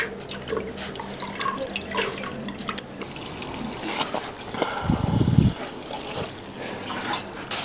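Water misted onto the leaves of potted plants in moss pots, soft hissing spray bursts and faint dripping over a quiet room, with one louder low rush of liquid midway.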